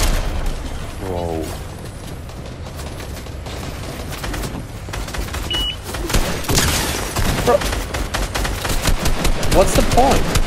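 Rapid gunfire bursts from the video game Fortnite, in a BedWars match, crackling loudly through dense game sound and explosions, growing heavier toward the end.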